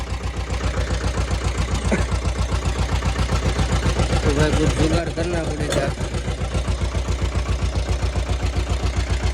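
A tractor engine idles close by with a loud, steady, rhythmic thumping chug. Someone talks over it for most of the clip.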